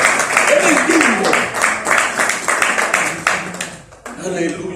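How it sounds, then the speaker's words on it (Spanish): Congregation in a church clapping loudly and steadily in a dense, fast patter, with a voice calling out over the clapping throughout. "Aplauda fuerte al Señor Todopoderoso."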